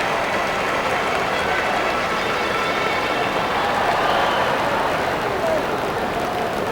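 Baseball crowd applauding at a Cincinnati Reds at Atlanta Braves game, producing a steady, broad wash of clapping and cheering from a large stadium audience under a broadcaster's voice.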